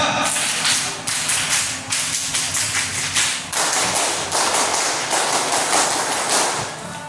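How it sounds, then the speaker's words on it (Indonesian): A crowd of students doing the Indonesian scout clap during a school orientation session, sharp rhythmic bursts of many hands striking together in repeated patterns, loud and close, filling the room with no speech over it. "2 kali tepuk pramuka."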